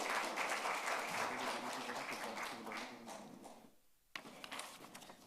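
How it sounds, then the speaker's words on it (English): An audience claps for the chairman at a Union Budget 2023-24 impact analysis event, broad steady applause filling the room for about four seconds, briefly dropping away, then a few scattered claps resuming. "So let us have a big round of applause for our chairman."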